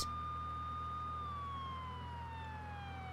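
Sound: police car siren in video game The Sims 3

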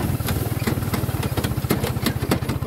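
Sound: motorcycle engine on a rough trail

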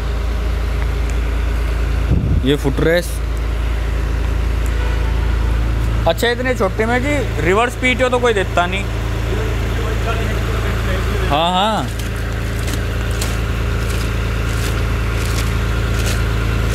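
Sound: 3-cylinder power steering tractor engine running

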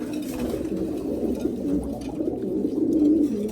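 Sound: pigeons cooing

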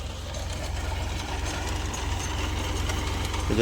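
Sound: tractor engine running in potato field

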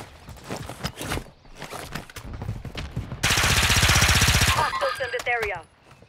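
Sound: gunfire in a video game

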